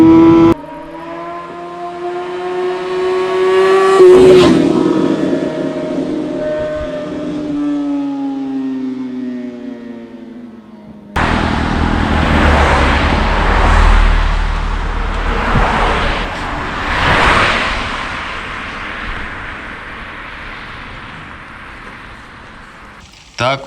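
A car fitted with a sport muffler accelerates in first gear. A broad engine roar builds in the second half, rising and falling in surges, with a voice talking over parts of it.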